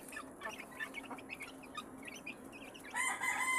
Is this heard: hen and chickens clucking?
yes